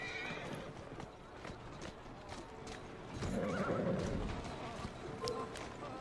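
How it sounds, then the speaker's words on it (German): A horse-drawn carriage in Assassin's Creed clatters along a street, steady clip-clop of hooves with rolling wheels, a horse's whinny midway, and someone talking over it. "Wir nehmen uns die Kutsche, fahren dann gleich die Straße entlang."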